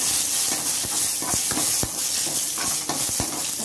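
Three bay leaves and five or six dry red chillies fry in oil left over from frying bitter gourd, giving a steady close sizzle and hiss with intermittent spatula scrapes and taps.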